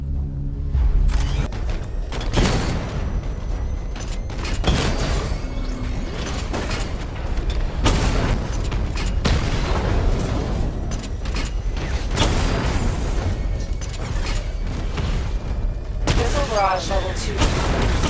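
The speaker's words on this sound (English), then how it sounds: "Destroy targets to charge up weapon energy and activate missile barrage." Weapon fire and explosions in the Batman Arkham Knight video game during a tank combat simulation, with repeated loud booms, rapid bursts and mechanical clanks in a dense, continuous barrage, while a voice speaks over it.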